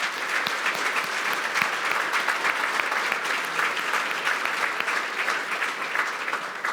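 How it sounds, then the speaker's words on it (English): A round of applause from the audience at an agricultural student of the year awards ceremony, dense even clapping that continues without a break at fairly strong level. "So maybe a round of applause for Declan."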